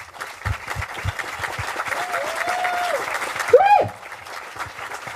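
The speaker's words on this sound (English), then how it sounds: "Let's give her a round of applause." Audience applause at an awards ceremony rises into a steady wash of clapping for a few seconds, moderately loud and close, with a brief whoop or cheer near the end.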